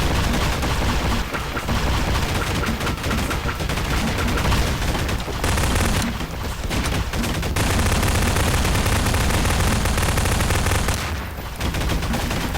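Sustained gunfire in the video game Garry's Mod, a dense loud barrage of rapid shots with brief pauses between bursts.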